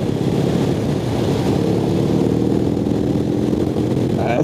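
A BMW R18 First Edition motorcycle with a large boxer engine accelerates, rumbling loudly and steadily, a deep throaty drone that holds strong throughout the clip.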